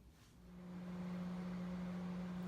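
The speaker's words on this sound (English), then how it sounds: "while the hamburger beef mixture, you'll hear me refer to it more as a beef mixture, is cooking in the microwave" A microwave oven runs while cooking a hamburger beef mixture, giving a steady low hum with a constant tonal drone that swells slightly after the start and then holds level, with no talking.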